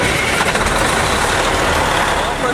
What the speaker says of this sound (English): I'm gonna go ahead and start the engine now.